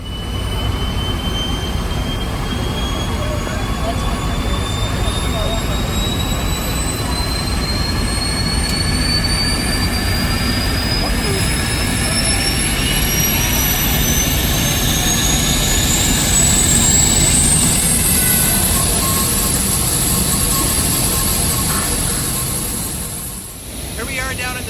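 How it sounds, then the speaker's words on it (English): MD-80 jet engines roar loudly and steadily, with a high whine rising slowly in pitch as they spool up over a rumbling background. "Listen to those engines firing up."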